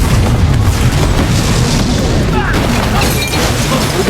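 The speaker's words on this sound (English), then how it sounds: "The powerful explosion blanketed the entire area in thick smoke." A powerful explosion in an action movie, a loud sustained roaring boom with dense low rumble that rolls on for several seconds before easing slightly.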